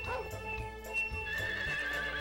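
In Harvest Moon 64, a horse whinnies loudly in a shrill, wavering call, with steady clip-clop hoofbeats running underneath throughout, close and clear with no speech.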